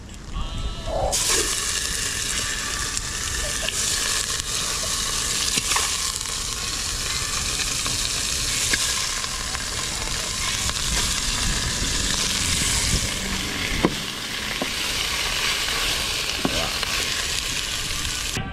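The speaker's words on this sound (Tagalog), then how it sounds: "papula na yung sibuyas bawang" Onions and garlic fry in a pan, a dense, continuous sizzle with occasional sharp crackles and pops, steady and close throughout.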